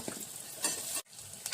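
Asafoetida hitting hot oil during tempering for kadhi gives a close, hissing sizzle with a brief stirring clatter, a short dropout midway, then crackling resumes.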